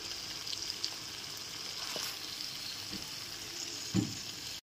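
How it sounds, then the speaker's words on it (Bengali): Chicken pieces frying in spiced oil give a steady, close sizzle and hiss throughout, with a couple of soft clinks or stirs near the end. "সমস্ত মশলাটা থেকে এখানে খুব ভালো মতো তেল রিলিজ হয়ে গেছে। এরপর চিকেনের টুকরোগুলোকে দিয়ে দিলাম।"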